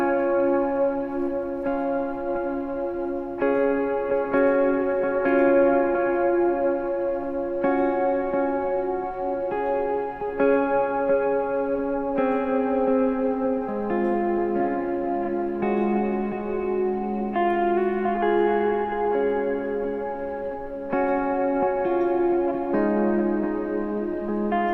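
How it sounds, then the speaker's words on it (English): An electric guitar played through a worship pedalboard with a big reverb and a dotted-eighth delay at about 65 BPM rings out in clean, shimmering repeated notes that trail and overlap into a wash, steady throughout with no talk. "Turn on a big reverb here and get to a smaller dotted eighth sound and tap in the tempo."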